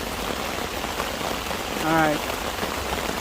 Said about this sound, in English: So we're getting a good rain.